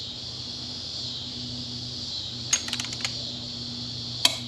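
Torque wrench set to 32 foot-pounds tightening a frame slider bolt on a 2022 Kawasaki Z650 motorcycle. A few sharp, brief clicks come over a steady background hum, with one more click a moment later.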